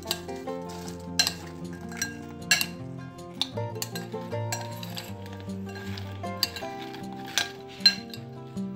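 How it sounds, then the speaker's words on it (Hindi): A spoon clinks and scrapes against a bowl while potato chaat is mixed with lemon juice and spices, in repeated sharp clicks over steady background music. "अब इन सब चीज़ों को अच्छे से मिक्स करेंगे"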